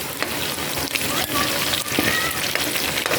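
Potatoes frying in hot oil, a loud, dense, continuous sizzle with crackling pops close up.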